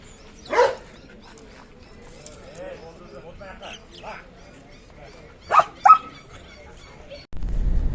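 Dog market in Fergana with a few short barks or yips from dogs, two bursts near the start and a pair close together later, set against a faint background with people talking.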